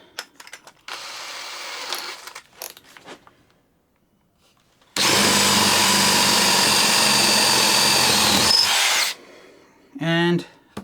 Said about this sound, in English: we'll get the drill on there and see how well they work now